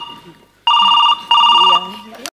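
A telephone rings during a Marathi stage comedy sketch, with two loud, sustained electronic ring bursts separated by a short gap over faint background noise.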